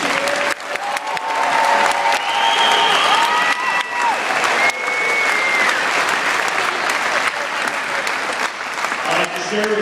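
A crowd at an opening ceremony gives sustained applause for the coaches and volunteers, loud and continuous, with cheers and whoops mixed in and voices audible underneath.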